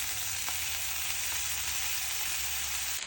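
A steak sears in a little olive oil in a hot skillet, giving a loud continuous sizzle that stays even and close throughout, without any speech.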